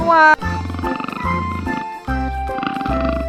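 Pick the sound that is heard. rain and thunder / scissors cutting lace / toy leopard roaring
toy leopard roaring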